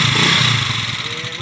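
A motorcycle engine runs loud and rough nearby, a steady noisy drone with clattery texture throughout, recorded in San Jose City, Nueva Ecija.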